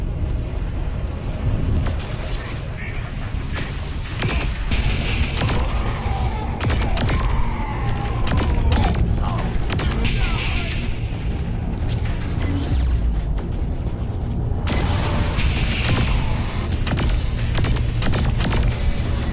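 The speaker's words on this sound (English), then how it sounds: "With all these explosions, either it's under attack or it's coming apart." Explosions tear through a ship in the video game Saints Row IV: loud, continuous booms and crashing rumbles roll over one another without a break, with scattered sharp bursts.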